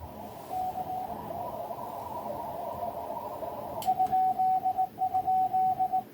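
A weak amateur radio signal comes through faintly over steady static hiss, with a thin tone that keys on and off in short pulses, as in Morse, near the end.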